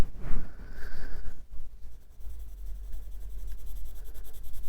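Green colored pencils scratch over paper for neurographic art, a close, continuous soft scraping with short strokes and a brief pause midway, no voices.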